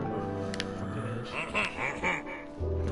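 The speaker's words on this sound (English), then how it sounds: "That was a fucking chicken." A Minecraft chicken in a video game gives a few clucking, quack-like calls, fairly near, over steady game background sound.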